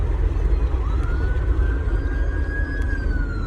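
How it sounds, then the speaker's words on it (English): A police siren wails outside, its rising and falling tone sweeping steadily over a dense, rumbling background of traffic and low noise throughout. "I can't even do a video without the sirens going"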